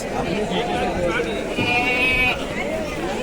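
Large goats bleat nearby at a crowded Eid goat market, drawn-out wavering cries mixed with people talking in the background.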